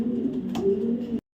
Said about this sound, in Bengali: জেনারদিন স্টাইলের একটা নর কবুতর